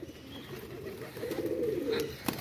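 A soft, low pigeon coo rising in the middle, close by, over a quiet background with a faint click near the end.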